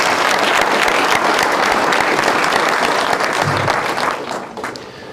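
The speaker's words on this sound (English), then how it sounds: "Please give them a round of applause." An audience at a city State of the City event gives a sustained round of applause for city directors and staff, loud and dense, then thinning toward the end.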